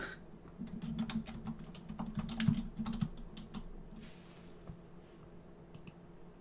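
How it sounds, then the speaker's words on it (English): Quick, uneven bursts of typing on a computer keyboard, close and fairly quiet, with clusters of key clicks over the first few seconds that thin out to scattered taps later, alone without talk. "I suck at typing"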